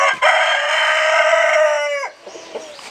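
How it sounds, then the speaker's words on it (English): A black rooster named Rufus crows once, close and loud, a long harmonic call that holds steady and then breaks off, followed by a few soft clucks. "Rufus, the infamous black rooster"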